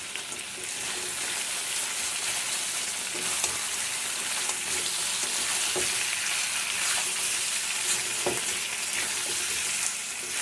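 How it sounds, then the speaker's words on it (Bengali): Chicken coated in garlic paste and ginger paste sizzles steadily in hot oil in a pan, with a continuous frying hiss and occasional scraping knocks as it is stirred. "আদা বাটা দিয়ে নাড়াচাড়া করবো"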